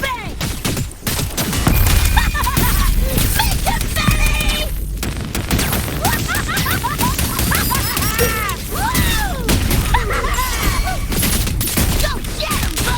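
Rapid video-game gunfire from Wuthering Waves crackles in dense volleys with sharp impacts and whooshing effects, loud and continuous, while a voice calls out over the action.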